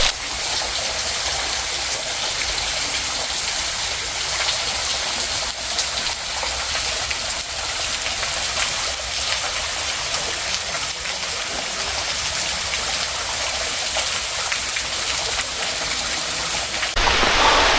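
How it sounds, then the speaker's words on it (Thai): Waterfall at Wat Khao Chomphu rushing steadily in heavy rain, a dense, unbroken roar of falling water heard close and loud with no voices. "ได้เห็นแล้วนะน้ำตกวัดเขาชมพู่"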